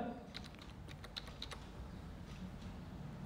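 Typing on a computer keyboard while working in MS Excel, with a burst of quick, light key clicks in the first half that then fades into faint, sparse taps over background noise.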